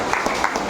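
A church congregation claps for the parents at a confirmation service, a brief, even patter of applause with a few sharper hand hits.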